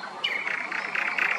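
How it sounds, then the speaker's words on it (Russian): A nightingale sings loudly in a city centre, with a rapid, high, rhythmic trilling phrase that repeats close and clear over faint background hum. "тут соловей"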